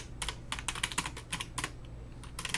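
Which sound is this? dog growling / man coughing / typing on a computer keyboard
typing on a computer keyboard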